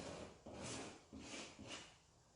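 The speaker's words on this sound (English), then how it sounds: "I find the scraping down works really well for like corners, getting in grooves." Paint being scraped off an old wooden pie cabinet in three or four slow, rasping strokes, each a rough scratchy drag along the wood, close and quiet with no talking.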